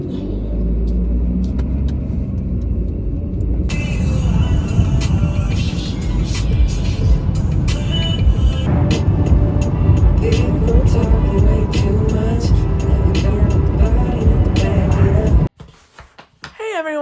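A car on country roads on a cloudy day gives a steady, close interior rumble of engine and tyres that runs on continuously, then cuts off abruptly near the end.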